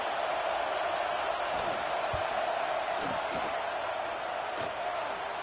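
Steady roar of a stadium crowd in a college football video game as the field goal unit lines up against Clemson, a continuous wash of noise with a few sharper shouts and thuds rising out of it.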